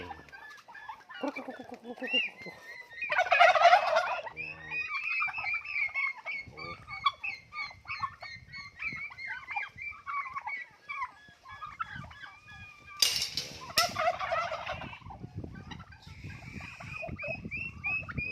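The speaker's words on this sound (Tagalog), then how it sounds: "Tapos yun yung mga pabo natin." Turkeys gobble and fowl cluck steadily around the listener on a farm, with occasional louder bursts of gobbling and a person speaking briefly.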